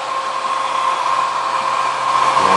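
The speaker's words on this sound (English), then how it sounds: "We've been drying with a hairdryer on cool." A hair dryer on its cool setting blows steadily and loudly at close range, a constant whooshing hum with a faint tonal whine and no talking.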